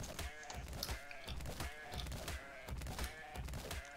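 Goat bleating in a video game, a taming encounter with an untameable goat: repeated wavering bleats over a busy, loud game background, with no talk.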